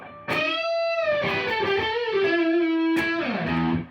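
A distorted Stratocaster electric guitar plays bent high notes that slide in pitch, wailing and squealing with sustained overdriven tone, then a fresh pick attack near the end.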